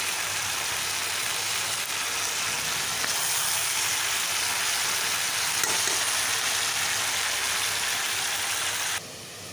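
Chopped tomato sizzling and frying steadily in hot oil in a pan as part of a fish curry with flat beans and potato, a dense continuous crackle heard up close with no talk, ending with a sudden drop in level.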